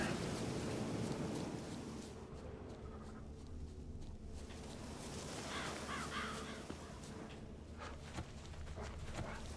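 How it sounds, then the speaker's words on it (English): Crows cawing in a video game forest, several hoarse calls from a little distance over a steady outdoor ambience, with no talk. "All I gotta do is follow the cawing."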